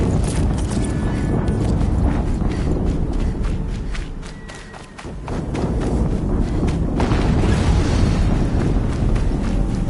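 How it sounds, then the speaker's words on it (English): Explosions in the action video game Horizon Zero Dawn: loud, dense rumbling blasts and crackling debris fill the scene almost continuously, easing briefly midway before surging again. "Another explosion."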